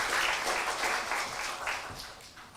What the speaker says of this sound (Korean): 우리 환영의 박수 하시겠습니다.